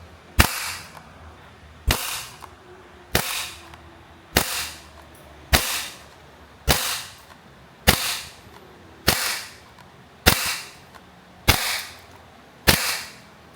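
Maruyama MP9 gas blowback airsoft gun firing single shots, eleven sharp, loud cracks, each followed by a brief clacking action noise, evenly spaced about 1.2 seconds apart, with no talking.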